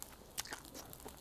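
Close, faint bites and chewing of grilled hagfish (kkomjangeo) cooked over straw fire outdoors, a few soft crunchy, sticky mouth sounds over a brief moment.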